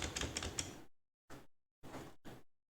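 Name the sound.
pressing the up arrow key on a keyboard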